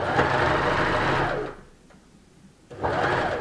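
A sewing machine stitches a gathering seam in upcycled fabric, running steadily at close range, pausing briefly, then starting again as it backstitches at the end of the seam; no talk.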